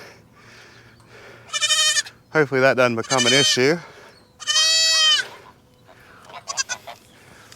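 Goats bleating loudly on a homestead, several drawn-out, wavering cries in quick succession near the listener, with a person talking quietly between the calls.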